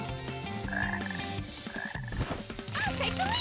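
Frog croaks from the Sonic Heroes video game come in short bursts, mixed into loud, continuous background game music with no talk.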